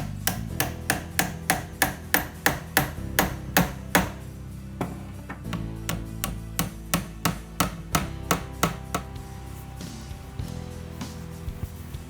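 Rapid, evenly spaced light hammer taps drive 3/4 inch 18 gauge brads into wooden fretwork, a long steady series of small sharp strikes with a short pause midway.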